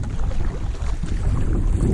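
A canoe is paddled across a big lake in Algonquin into a headwind, giving a loud, continuous whoosh of wind buffeting the microphone over water sloshing close by.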